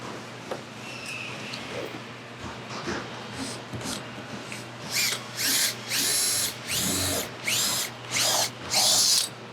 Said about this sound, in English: So I'm good to go ahead and drill all the way through now.